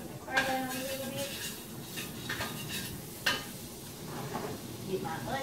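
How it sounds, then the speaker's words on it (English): Butter sizzles in a preheated pan while cream of potato soup is being made, a soft steady crackle under clinks of utensils and occasional speech. "That's already sizzling because I got my pan heating up back there."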